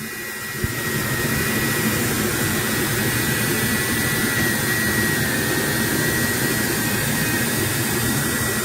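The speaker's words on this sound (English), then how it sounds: "I let the Q-tip do the work with the power of the Dremel." A Dremel rotary tool spins a Q-tip to polish the hot end of a Makerbot Method 3D printer, giving a steady, loud, high whine that starts abruptly and holds without a break. Close, with no talk.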